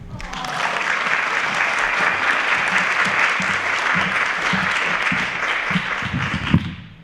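A school audience claps steadily and loudly after a child reads a poem at an elementary young writers' evening, with dense applause that holds for several seconds before tapering off at the end.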